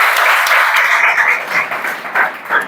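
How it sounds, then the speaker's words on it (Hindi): A classroom group claps for a student named Manish, a dense burst of applause that swells and then breaks into scattered, uneven claps as it fades. "मनीष के लिए जोरदार ताली"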